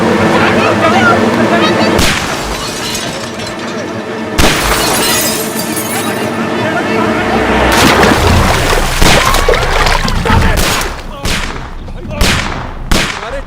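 Sharp, loud gunshot-like bangs and crashes come several times in a Bollywood comedy action scene, first spaced apart and then in a rapid final cluster, over busy dramatic background sound.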